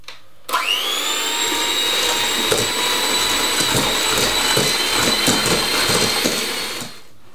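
Electric mixer beating soft light brown sugar and butter, a loud continuous whirring that starts abruptly, holds steady with a slightly rattling texture, then cuts off near the end.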